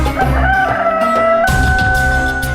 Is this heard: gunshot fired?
no